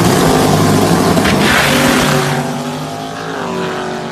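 Chevrolet C8 Corvette launching hard off a trans brake, the engine roaring loudly at high revs, then the sound shifting and fading slightly as the car pulls away, with no voices.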